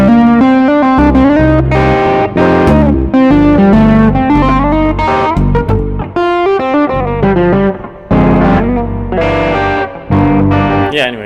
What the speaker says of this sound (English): So now I have one side that's more distorted, and then this side there is no distortion.